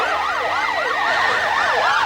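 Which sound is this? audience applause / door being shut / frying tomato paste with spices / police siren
police siren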